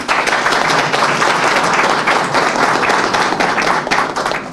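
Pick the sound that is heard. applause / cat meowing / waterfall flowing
applause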